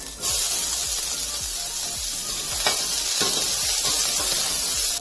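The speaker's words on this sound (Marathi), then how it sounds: "आता हे काढून घेऊया आणि ह्यामध्ये 1 मोठा कांदा भाजून घेऊया।" One large onion frying in a pan for a Maharashtrian sprouted matki curry, giving a steady, close sizzle and hiss with faint scraping stirs now and then, no voices.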